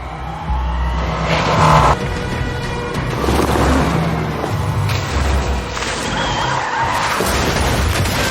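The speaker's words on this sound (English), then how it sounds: "his car had an incident and rolled over" A movie car skids and crashes, then rolls over: loud, close screeching tires and engine noise, with heavy impacts and a rumbling tumble that runs to an abrupt end.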